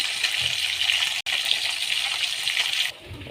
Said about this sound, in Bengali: আর এই যে এগুলো ভাজতে দিয়েছি